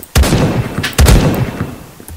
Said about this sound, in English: I love this shotgun really.